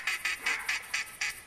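Mallard ducks quacking in the hunting game theHunter Classic, a quick rhythmic run of about seven nasal quacks evenly spaced, fairly close and clear with no voices.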